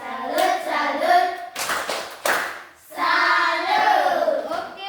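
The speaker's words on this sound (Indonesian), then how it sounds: "Sekarang berikan tepuk salut untuk kedua teman kalian di depan." Children in an Indonesian classroom clap a rhythmic salute chant, with sharp group clapping bursts between stretches of their voices chanting together, loud and close.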